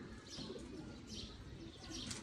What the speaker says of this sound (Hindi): ये है जी दोस्तों चपड़े कबूतर।